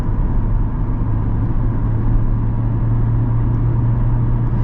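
Steady, near engine drone from a 2024 Chevy Corvette Stingray Z51 with a torque converter automatic, a constant low hum with faint gear changes that barely break the even tone, heard without talk.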